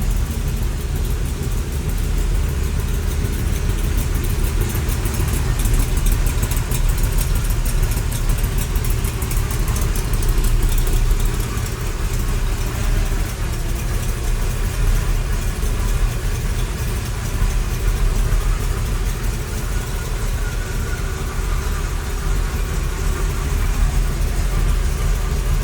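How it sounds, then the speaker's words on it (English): A 1930 Ford Model A five-window coupe street rod, all steel, idling steadily with a moderate exhaust rumble, loud and close, a continuous even drone with no talk over it. "It's got a rumble, but it's not crazy over the top."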